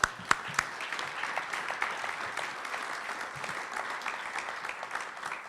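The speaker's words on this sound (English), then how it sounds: "Give everybody a round of applause." Audience applause at a gig economy talk as the host thanks the crowd, a steady wash of clapping at a moderate distance with a few sharper claps near the start.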